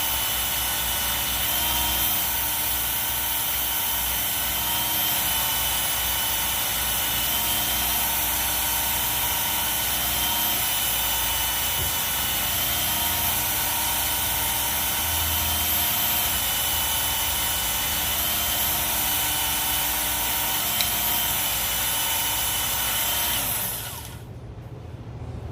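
A WorkSharp powered knife sharpener grinds a cheap knife on a 6000-grit belt, a loud, steady motor whine with a constant abrasive hiss that runs unbroken for over twenty seconds before cutting off near the end.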